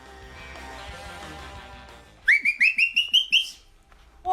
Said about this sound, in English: It's my cat whistle.